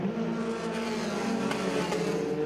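Formula 4 race cars circling a track behind a safety car at reduced pace, a steady droning engine tone with small pitch swells, moderately near and continuous.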